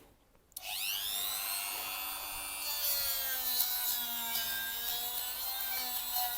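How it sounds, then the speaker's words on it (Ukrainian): A multifunction rotary engraver starts up suddenly and whines steadily as it sands a wooden workpiece, giving a continuous high-pitched grinding hum up close. "тільки залишається шліфувати. І так, сам процес."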